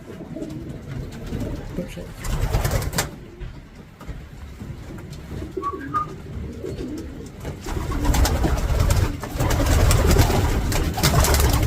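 Pigeons coo in a large, open loft about ten feet tall, soft repeated coos over a continuous rustle and flutter of many birds, close by, with a brief spoken apology partway through.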